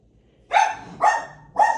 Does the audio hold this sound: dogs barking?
yes